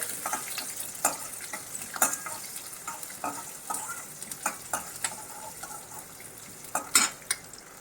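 Onion and garlic sizzle in a pan with scattered clinks and scrapes of a utensil stirring, steady frying hiss underneath, no voices.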